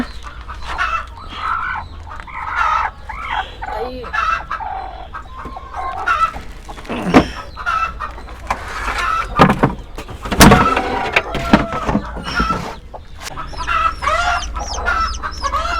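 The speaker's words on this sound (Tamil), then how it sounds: "இதுதான் அந்த தாய்க்கோழி நல்லாவே அடை காக்கும்" A broody mother hen clucks repeatedly in short, irregular bursts close by, with scattered clicks and rustling around her.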